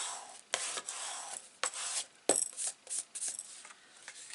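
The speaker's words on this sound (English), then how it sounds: "again just use your bone folder on the inside" A bone folder rubs firmly along the inside of a folded handmade paper card, giving a run of close, dry scraping strokes in an uneven rhythm with short pauses between them and no talking.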